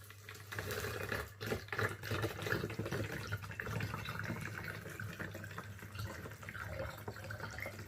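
Water for aquarium plant food is poured through an improvised funnel into a bottle, a soft continuous trickling and splashing with a low steady hum behind it.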